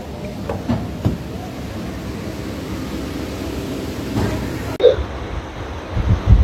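A passenger train on the Kolkata to Digha route rumbles low and steadily as it pulls away from the station, with a few brief knocks and a sharper clunk near the end.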